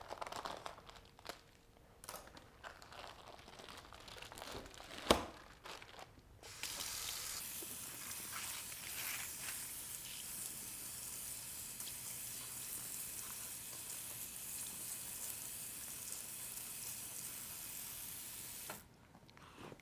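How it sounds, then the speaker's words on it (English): A raw brisket is unwrapped from its plastic bag with crinkling and tearing, followed by a steady stream of running tap water rinsing the meat in a sink for much of the time, close and fairly loud. "simply open your bag and wash your brisket"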